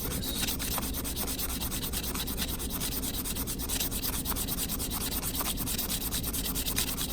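Hand sanding of a silver quarter ring makes a continuous close scratchy rubbing with fast back-and-forth strokes, steady and alone.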